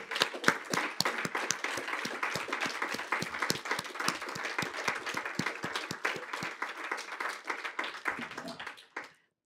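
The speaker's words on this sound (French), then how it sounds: "je voudrais que vous applaudissiez les uns et les autres" An audience claps after a collective signing of an LGBT+ commitment charter, many distinct hand claps in a lively, uneven patter that carries on steadily, thins near the end, then stops abruptly.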